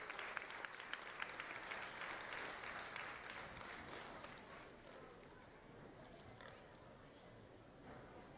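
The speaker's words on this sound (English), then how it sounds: "Let's give her a big round of applause" A crowd at a county fair swine show claps for the champion exhibitor, a loud burst that thins after a few seconds while pigs grunt and move around underneath.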